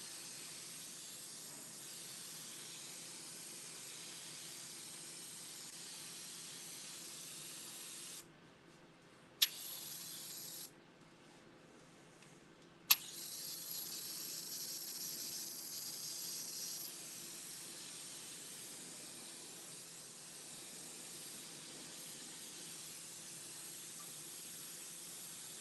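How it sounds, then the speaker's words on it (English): A spray gun hisses steadily as white candy paint goes onto a Harley-Davidson Road King motorcycle, a soft continuous airy spray broken by two short pauses with sharp clicks of the trigger, close and without speech. "I'm going to spray a little white"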